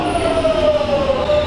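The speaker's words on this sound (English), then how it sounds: "One effect of this is that the trains make a certain specific sound" London Underground Jubilee Line 1996 stock train running, a loud, close, continuous drone with a distinctive sustained whining tone that slowly shifts in pitch over rumbling wheel and motor noise, with no talking.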